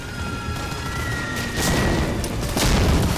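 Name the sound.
explosion in Medal of Honor Warchest video game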